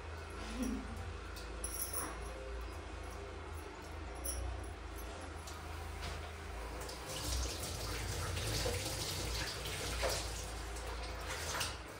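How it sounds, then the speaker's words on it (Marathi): Flattened rice (poha) being washed in water for kande pohe, soft continuous sloshing and splashing close by with faint drips, no talking. "पाणी स्वच्छ धुवून घ्या"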